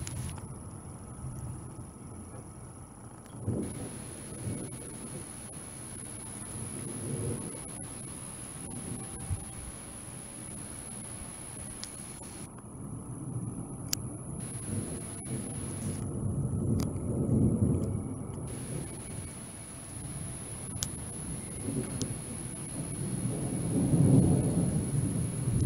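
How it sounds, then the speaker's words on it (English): Low thunder rolls and rumbles repeatedly beneath an ominous cloud during a July thunderstorm, distant but swelling louder toward the end, with light wind noise on the microphone and no talking. "A lot of thunder rolling around."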